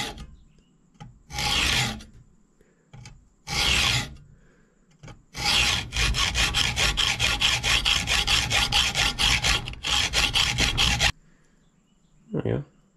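Hand-cutting a Harbor Freight Daytona 1.5 ton jack part with a blade: short separate rasping strokes, then a long run of quick rhythmic back-and-forth sawing, loud and close, ending with one brief stroke after a pause.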